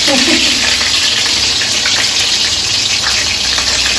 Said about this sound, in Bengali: আর তেলের ছিটটা পড়ছে